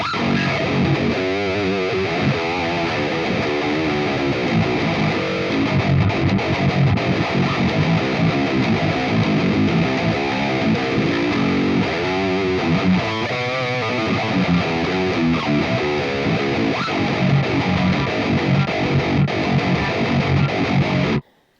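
A Legator N8FP electric guitar with Fishman Fluence Tosin Abasi pickups, heavily distorted through Fractal Axe-Fx effects, plays loud, sustained riffs and chords for about twenty seconds, thick and gritty, then cuts off abruptly.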